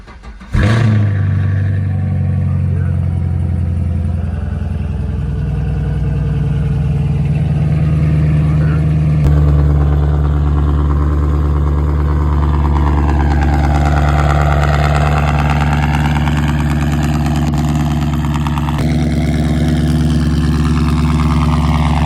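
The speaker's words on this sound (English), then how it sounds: "Give y'all guys a cold start." Catless Chevrolet Camaro SS firing up cold: a sharp starter crank, then a loud, deep, steady idle rumble that settles slightly, recorded up close with no voices.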